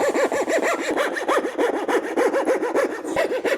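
A coping saw cuts a wood dovetail in quick, even back-and-forth strokes, each pass a close, rasping scrape in a steady rhythm, with no pauses.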